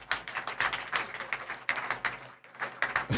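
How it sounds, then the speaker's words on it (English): A live audience claps at a motivational talk on building generational wealth, a dense patter of many hands that swells and dips in waves and drops out briefly near the end, with no voices over it. "Please clap for yourself."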